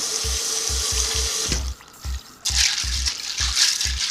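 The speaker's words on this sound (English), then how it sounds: "and we're going to rinse the beans." Tap water runs steadily into a kitchen sink as dry beans are rinsed, a continuous hiss and splash broken by a short pause, with a rhythmic low thumping beneath the flow.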